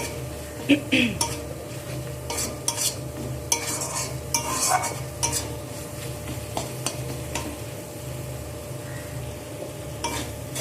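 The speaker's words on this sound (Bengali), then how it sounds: "সব কিছু দিয়ে মশলাকে ভালো করে কষিয়ে নিতে হবে" Spices with dried red chillies being stir-fried in a pan: repeated spatula scrapes and metallic clinks against the pan over a low sizzle, close and irregular, with no clear speech.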